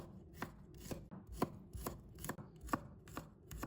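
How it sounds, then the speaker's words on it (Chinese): A kitchen knife slices garlic cloves on a cutting board, giving about nine crisp, evenly spaced chops close up with nothing else heard. "再准备1把大蒜，把它切成片"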